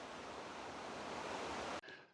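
Creek water rushes as a steady broadband hiss below a forest trail near Fir Creek Falls along Forest Road 23, continuous and faint, then cuts off abruptly near the end.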